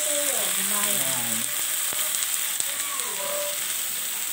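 Garlic butter shrimp sizzle and crackle in a frying pan, a steady close hiss with a few sharp pops, and a voice talks over it at the start.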